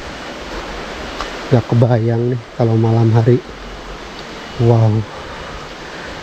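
A small river runs below forested hills, giving a steady, even rush of water that carries on under a man's brief spoken remarks.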